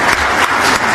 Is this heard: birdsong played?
no